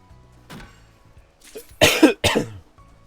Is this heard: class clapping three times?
no